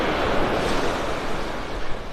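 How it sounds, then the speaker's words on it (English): Gulf of Mexico surf at Vanderbilt Beach, Naples, Florida, rolls in a constant broad roar, waves washing onto the beach with wind buffeting the microphone, loud and close, with no voices. "I just want to capture the sounds of the ocean, of the Gulf, the sounds of the sea"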